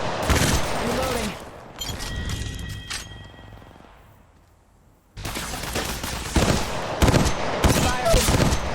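Gunfire from an enemy squad in a video game, with loud bursts of rapid shots and booms, a quieter lull in the middle, then dense firing resuming.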